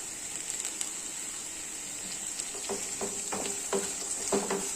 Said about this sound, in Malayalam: അതിനുശേഷം ഇതെല്ലാം കൂടെ നമുക്കൊന്ന് വഴറ്റി കൊടുക്കാം.